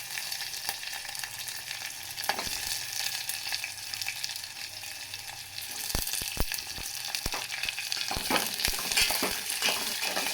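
Garlic, green chilies, onion and a little urad dal frying in a pan, a continuous bright sizzle with sharp clacking stirs clustering toward the end, close-up with no talking.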